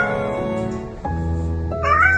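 Rescue cat giving a squeaky, hello-like meow: a few close, clear tonal chirps, the last rising higher and squeakier, heard alone without talk.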